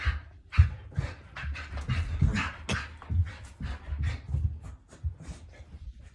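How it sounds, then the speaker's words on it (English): A dog pants rapidly and steadily nearby, with scrabbling, shuffling movement sounds throughout as it moves around. "Now, my faithful canine's having a little zoomy time."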